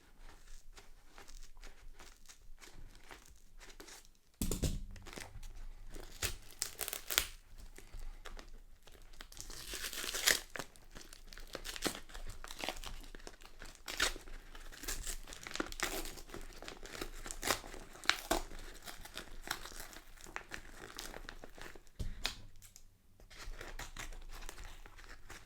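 Paper crinkles and tears while someone cuts into a book, producing soft, irregular rustling and crunching up close, with a few sharper bursts and quiet pauses.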